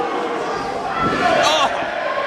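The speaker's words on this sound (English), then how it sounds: "Absolutely peppering each other with these forearm strikes." Forearm strikes traded by Jon Moxley and Robert Anthony in a CZW wrestling match, heard as a dull slap or thud or two within a loud, continuous roar of the arena crowd.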